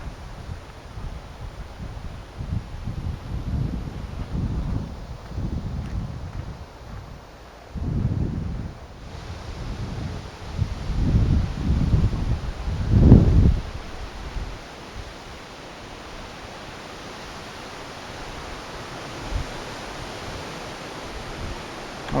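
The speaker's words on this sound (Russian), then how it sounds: "Очень ветрено сегодня." Strong wind blowing outdoors at a boulder museum, a steady broadband roar with gusts rising and falling over several seconds and one sharper buffeting burst against the microphone.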